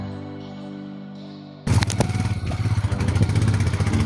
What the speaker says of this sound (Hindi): अब नीचे से काफ़ी नीचे से टूटा हुआ रोड मिल रहा है और बारिश सुबह हो गई तो इस वजह से पता है पूरा गीला हो चुका है, तो फिसलने का पूरा डर है और ऐसे चढ़ रही है बाइक।